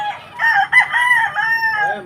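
A Red Kelso gamecock rooster crows loud and close at a game farm, one drawn-out call with a few clucks from hens around it.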